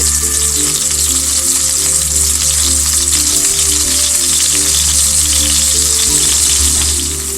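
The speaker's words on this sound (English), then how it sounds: "I am going to gently put the steak into the pan. Watch for the fire and the oil." Steak frying in hot oil in a pan, a loud, steady sizzle with crackling that runs unbroken throughout, no voices over it.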